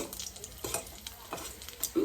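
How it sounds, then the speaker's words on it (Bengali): Bori lentil dumplings frying in hot oil for a shol fish and bottle gourd curry, with a soft steady sizzle and a few quiet stirring scrapes. "বড়িগুলো একটু ভেজে নেবো"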